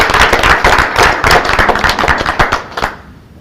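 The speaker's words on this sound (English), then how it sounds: "Dean McLaughlin, would you please stand so that we can give you a round of applause?" Applause fills the room at a Weatherford College Board of Trustees meeting as the dean stands. Dense, close clapping holds steady and then thins out and fades near the end, with no talking over it.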